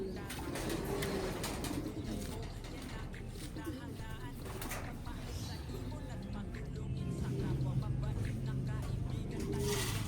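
Racing pigeons coo softly amid a busy outdoor backdrop, low repeated cooing mixed with wing flutters and distant traffic, while a person talks over them.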